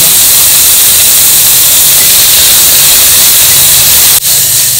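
Onions sautéing in a hot pan with a pinch of asafoetida in a home kitchen, giving a steady, loud, close sizzling hiss that runs unbroken, with one brief dip near the end.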